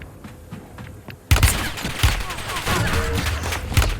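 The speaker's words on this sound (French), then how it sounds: "Je crois que ça me tire dessus, ouais" Bursts of automatic gunfire in Call of Duty erupt suddenly after a quieter start and carry on as dense, loud volleys with sharp single reports, while a player talks faintly underneath.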